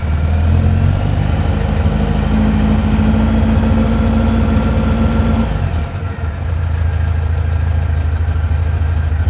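1956 oval-window VW Beetle air-cooled engine idling steadily while warming up, a low rumbling burble that shifts pitch slightly midway, close and continuous.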